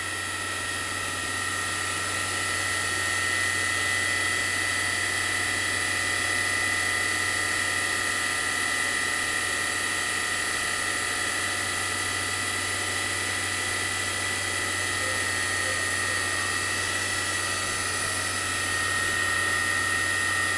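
A FADAL 6030 CNC vertical machining center spindle spins up toward 10,000 RPM, giving a steady, loud whine with a constant mechanical hum underneath and no talking.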